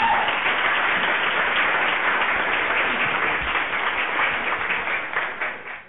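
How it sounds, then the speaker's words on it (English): Dense, steady clapping from several pairs of hands fills the clip at a fairly loud level with no voices, tapering slightly near the end. "I clap for that."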